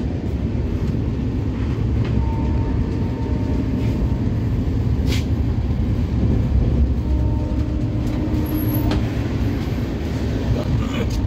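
Passenger train running on rails on a journey to Odisha, a steady close rumble with faint rhythmic clatter throughout, no talk.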